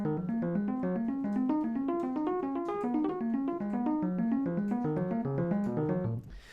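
Jazz piano practice exercise in C, a rapid run of evenly spaced notes climbing and falling in repeating patterns, close and clear, played alone for about six seconds before stopping abruptly.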